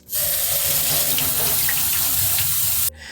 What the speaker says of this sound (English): we just gotta get them out of the can and give them a rinse